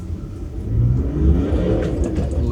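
An INEOS Grenadier 4WD's diesel engine burbles at low revs off-road, rising in a steady rumble that grows louder partway through.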